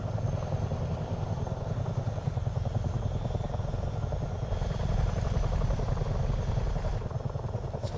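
Helicopter from Microsoft Flight Simulator 2024 in flight, a steady close rotor chop and engine drone with rapid rhythmic thumping holding constant throughout, no voices.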